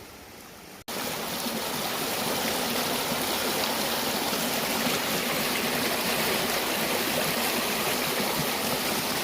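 River running high at minor flood stage, a loud, steady rushing roar of water that cuts in abruptly after a brief quieter moment and then continues unbroken, with no voices.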